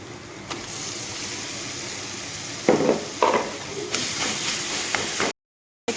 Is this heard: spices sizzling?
yes